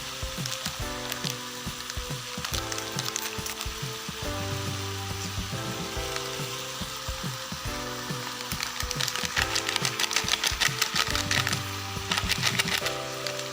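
Mutton pieces frying in a pan for red meat gravy with masala, a steady crackling sizzle under repeated scraping and stirring, fairly close and continuous throughout.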